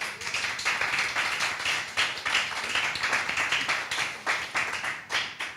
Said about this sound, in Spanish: Ahora un aplauso al Espíritu Santo